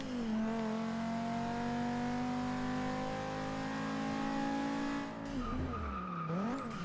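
Audi TT race car in the Forza Motorsport 6 racing game, engine holding a steady high whine under acceleration with tire skidding, then shifting and revving near the end; no talking.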